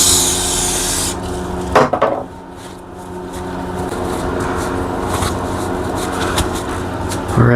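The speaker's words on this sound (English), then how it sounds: "these exhaust valves, see, they polish up pretty good" Exhaust valves being polished with a cloth during a DIY rebuild of a J37 engine, giving a steady close rubbing rasp that runs nearly throughout, broken by a few brief louder handling knocks.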